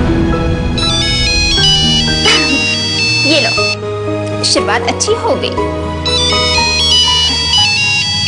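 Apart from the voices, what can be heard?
mobile phone ringtone ringing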